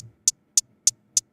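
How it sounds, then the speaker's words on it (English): A hi-hat loop from a Splice sample pack for a reggaeton beat plays four crisp, bright closed-hat ticks evenly spaced in a steady straight rhythm, clean and close with nothing else playing. "And then I have the hi-hats that are also from Splice"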